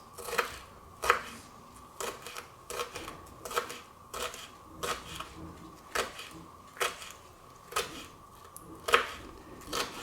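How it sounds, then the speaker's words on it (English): A knife chops jalapeño into small pieces on a cutting board, giving crisp, separate taps at an irregular but steady pace, close and moderately quiet, with no talking over them. "And then just cut it into these little pieces."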